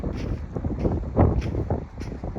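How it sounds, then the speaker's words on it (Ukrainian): Strong gusts buffeting a microphone in a cornfield during corn sowing, low rumbling bursts rising and falling, loudest in the middle, with no voices. "вибачайте за вітер, бо дуже сильний"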